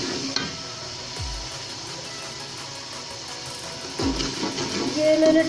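Garlic ginger paste dropped into hot oil for green chana pulao, a soft crackling sizzle with stirring scrapes and a couple of low pan knocks, fairly quiet and close.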